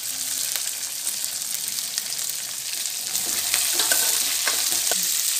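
Curry leaves sizzle loudly in hot oil for rice rava upma, giving a dense, steady frying hiss with scattered crackles and pops that grow a little stronger near the end.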